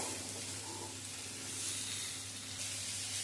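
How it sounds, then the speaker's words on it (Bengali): Cauliflower, potato and carrot for a winter mixed-vegetable navratan dish fry in a pan, giving a soft, even hiss with a low hum underneath, steady throughout and close, with no voices. "আলু গাজরটা দিয়েও মিশিয়ে নেব, একটু ভেজে নেব"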